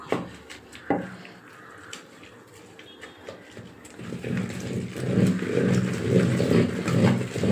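Wet, rhythmic mashing and thudding of cooked amaranth greens being pounded in a pot, growing louder and denser in the second half, with clinks of a utensil.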